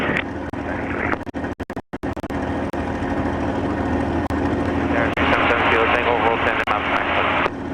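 A P-51 Mustang at Kissimmee takes off on runway 15, its piston engine giving a loud steady roar that climbs to full power toward the end. Radio calls and cockpit talk run over the engine.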